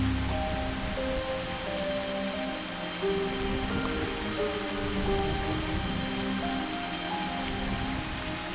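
Steady rain falls as a dense, continuous hiss with faint patter, even and unbroken throughout. Low tonal sounds drift in the background.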